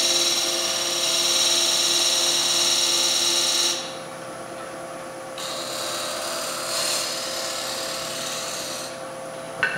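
A bowl gouge scrapes gently across the foot of a spinning wooden bowl on a lathe, giving a steady, close hiss that drops suddenly to a softer rasp partway through and then swells again, with no talk.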